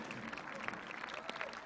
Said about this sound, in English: Guys, let's give him a round of applause.